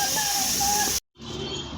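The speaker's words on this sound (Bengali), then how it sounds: "মাছের মাথা একটু ঢাকা দিয়ে ভাজতে হবে, কেননা মাছের মাথা কিন্তু ফোটে" Fish head frying under a lid in a pan, a steady loud hiss and sizzle that cuts out abruptly for a moment, then resumes slightly quieter.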